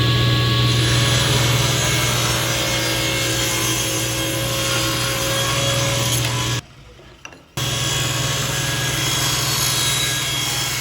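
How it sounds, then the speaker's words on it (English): A table saw rips bevel cuts through wood with a loud, steady high-pitched whine, the blade straining under load, then cuts off briefly before spinning back up to full speed. "I hate making these beveled cuts. It really works the blade."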